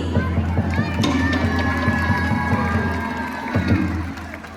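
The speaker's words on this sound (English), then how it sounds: "let's give a round of applause to the Wahine o Tumotuapi" A crowd at a Christmas hula and Tahitian dance show at Ala Moana cheers and claps for the dancers, steady applause with scattered shouts and whoops, fairly loud and continuous.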